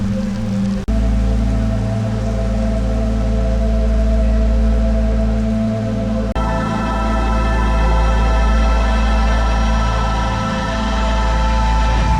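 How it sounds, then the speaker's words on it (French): Steady, dense heavy rain in South Korea fills the whole stretch, a constant broadband hiss with a low rumble beneath, no voices. "il pleut à mort"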